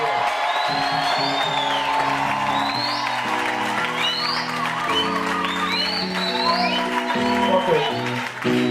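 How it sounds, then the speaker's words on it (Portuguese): A church congregation applauds and shouts in victory. Clapping and whoops go on under a steady sung or spoken voice with organ-like sustained tones, loud and continuous throughout. "Grito de vitória e aplauso para a hora"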